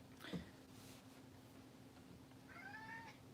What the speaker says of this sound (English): Oh, my cat's here.